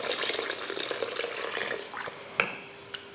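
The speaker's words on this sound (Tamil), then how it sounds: "இப்போ தண்ணி சேர்த்துடலாம்." Water poured from a vessel into a pan of oil-rich eggplant curry, a continuous splashing trickle for a couple of seconds, close and moderately loud, ending with a couple of small drips.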